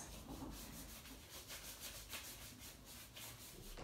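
Self-tanner lotion being rubbed into the skin of the feet by hand, a steady, soft, close-up friction swish that carries on without a break and without talk.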